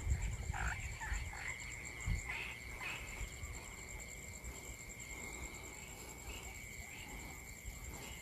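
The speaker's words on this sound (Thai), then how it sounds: "ตัดเสียงนกเสียงอึ่งอ่างเสียงแมลงออกนะครับ" Narrow-mouthed toads and insects call at night. Shrill, steady insect trilling runs throughout, and rough croaks pulse near the start before fading into the continuous chorus.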